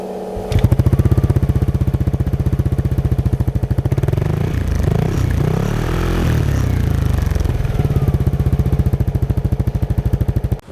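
A Yamaha Aerox 155 Connected 2021 scooter with a Rob One aftermarket exhaust idles steadily up close, a loud even mechanical chug that wavers briefly in the middle before settling back into its rhythm.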